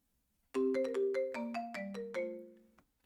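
A phone ringtone: a short melodic sequence of about eight bright electronic tones in a rising and falling pattern, clear and close, starting abruptly after a brief silence and ending within a few seconds.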